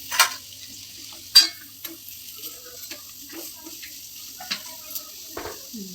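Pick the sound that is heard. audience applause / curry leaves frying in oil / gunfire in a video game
curry leaves frying in oil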